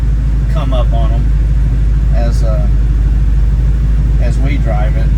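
1966 Ford Mustang with a Holley Sniper fuel injection setup driving, a loud, steady low engine rumble and road roar from inside the car while someone talks over it.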